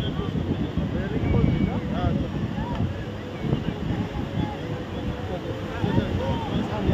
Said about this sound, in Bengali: ঢেউ আসছে সেরা সেরা ঢেউ